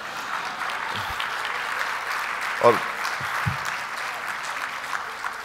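A small audience at an education festival opening keynote gives a light smattering of applause from a few people, faint and scattered beneath someone speaking Hindi.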